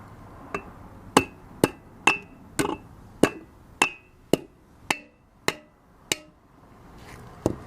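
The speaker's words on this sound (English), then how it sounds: "if I tap it with the hammer or mallet on the top of the valve, it should just pop out and go back in" Hammer tapping the top of a valve in a car cylinder head: about a dozen sharp metallic knocks at a steady, slightly uneven pace, close and clear with nothing else over them.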